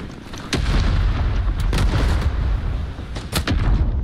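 Grenade explosions in the war video game Rising Storm, set in an attack on Saigon: heavy low booms and sharp blasts overlapping in a dense, continuous battle din with several distinct cracks standing out.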